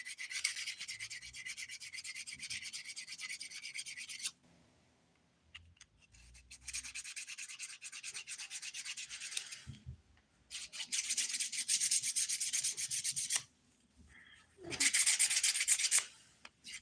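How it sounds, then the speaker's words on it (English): A nail file rasps straight down a fingernail's sidewall during a dip powder manicure, in three long bursts of steady, close scraping strokes separated by brief pauses, with no talking. "I'm going to file straight down my sidewall"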